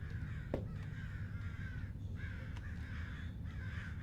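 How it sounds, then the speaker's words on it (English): Crows caw repeatedly in the video game Summer of '58, several drawn-out harsh calls at a moderate distance over a steady low ambient hum, with no talking. "I can hear the crows."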